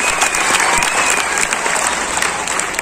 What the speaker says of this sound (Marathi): ज्यांनी हा कार्यक्रम आयोजन केलाय त्याच्यासाठी एकदा जोरदार टाळ्या मनातून वाजल्या पाहिजे